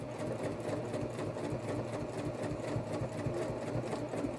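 A sewing machine runs a slow, steady stitch in the ditch along a seam on a fabric messenger bag pocket, a close, continuous mechanical whirr with a fine rhythmic pulse.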